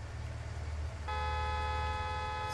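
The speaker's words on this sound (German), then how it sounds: "Was hupen die hier alle?" Car horns honk in Farming Simulator 19 during a harbor flood emergency; a steady, sustained horn blares from about a second in, over a low engine rumble.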